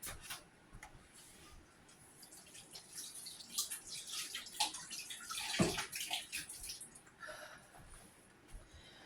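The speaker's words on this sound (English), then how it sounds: "Rinse my hands off." Hands are rinsed under running water at a kitchen sink during apple pie making, a close irregular splashing and rubbing that swells midway before easing off.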